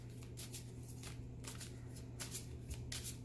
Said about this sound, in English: As I'm shuffling that desert and religious card